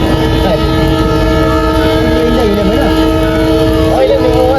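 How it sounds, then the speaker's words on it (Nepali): A passenger train coming from India passes close by in rainy weather in the Terai, its loud horn sounding several wavering blasts over a continuous rumbling roar of the cars. "ट्रेन आयो ट्रेन इन्डियाबाट आएको"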